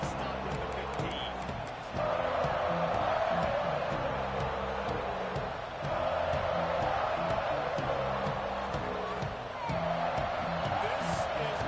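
A football stadium crowd roars steadily as a play runs, a dense, continuous wash of cheering that swells in waves and stays loud throughout.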